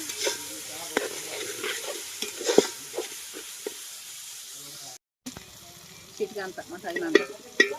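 Mutton and gongura leaves sizzle quietly in a pan in a home kitchen while a spoon scrapes and stirs in irregular bursts. A short pause comes near the middle before the livelier stirring resumes.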